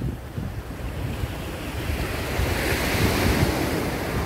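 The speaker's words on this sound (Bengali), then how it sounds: "সমুদ্রের দুপাশের জল চলে আসছে, আস্তে আস্তে ভাটা পড়ছে" Sea water rushes and washes across the shallow sandbar between Ross and Smith Island as the tide ebbs, a loud, steady surf wash with wind buffeting the microphone and no voices.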